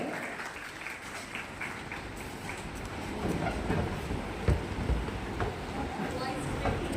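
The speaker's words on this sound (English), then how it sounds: "Please give a round of applause." An audience at a stress-management session claps for the participants, giving a steady, fairly faint patter of applause that carries on for several seconds in a large room.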